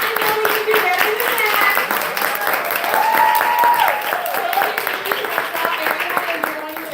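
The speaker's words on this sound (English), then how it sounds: "please join me in giving Judge Laurel Beatty Blunt a round of applause" Audience applause for a judge being introduced at a morning WISE 2025 event, sustained clapping from a crowd over the full stretch with cheering and voices mixed in.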